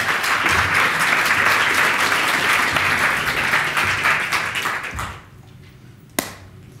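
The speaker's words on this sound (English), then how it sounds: "Give it up for Áine Flood" Audience applause at a science communication competition final, a dense steady wash of many hands clapping for about five seconds before quickly dying away, followed by one sharp isolated clap.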